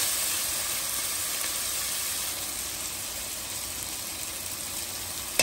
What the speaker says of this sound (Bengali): ভালো করে কষিয়ে নিচ্ছে আদা আর রসুন বাটা।